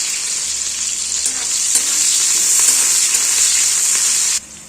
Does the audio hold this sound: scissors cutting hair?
no